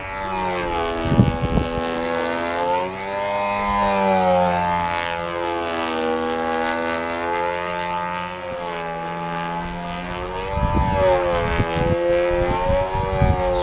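A control line stunt model airplane powered by a Rojet 61 engine flies overhead, its loud, steady buzzing whine rising and falling in pitch as it circles, with no talk.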